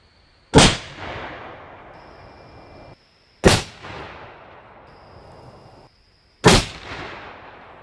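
Three loud, sharp .270 rifle shots from a Savage Axis at an outdoor range, evenly spaced about three seconds apart, each cracking close by and trailing off in a rolling echo.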